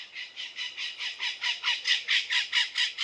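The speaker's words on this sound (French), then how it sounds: "c'est un oiseau qui est passé." A bird calls in a rapid, steady series of shrill squawking notes, evenly pulsed and fairly close, with nothing else around it.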